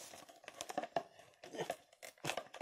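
Plastic packaging wrap on a boxed book set is ripped open with a finger in several short, crinkly tearing bursts separated by brief pauses, close to the microphone.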